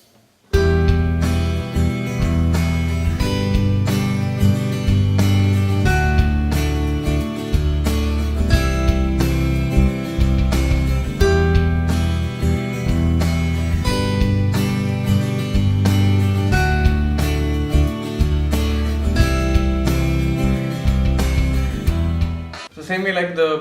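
An electric guitar plays a continuous improvised minor-key line over a steady backing track with drums and bass, loud and sustained for the whole stretch.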